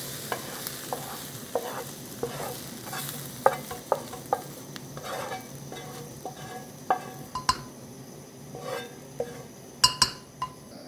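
A spoon scrapes and clinks as a mushroom and chicken stuffing mix is moved from a pan into a separate bowl over low heat, giving irregular metallic taps and scrapes under a faint sizzle.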